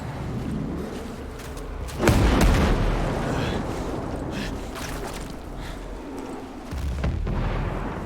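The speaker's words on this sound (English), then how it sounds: "Mortars, get down now." Mortar explosions in the video game Ghost Recon Breakpoint, a heavy booming blast followed by rumbling aftermath and a second low thump, loud and close, with brief voices.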